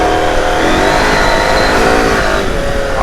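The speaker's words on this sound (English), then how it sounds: "The engine is really good. 900cc." The 900cc engine of a Husqvarna Norden 901 adventure motorcycle revs hard and close, a loud continuous roar that rises in pitch, with no talking over it.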